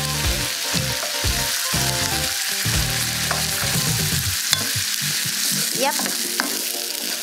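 Guitar pasta sizzles and fries steadily in a hot pan, with scraping stirs and crackling spatters running continuously throughout, close and fairly loud, while a brief word of speech is spoken.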